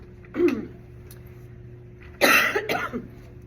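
Two separate coughs, a short one early and a harsher, louder one later, with quiet background hum in between.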